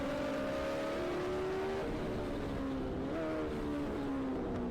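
Onboard lap of a 1980s Formula 1 race car at a historics event at Spa, the engine note rising and shifting through the gears under heavy rushing wind noise, fairly faint and distant in the mix.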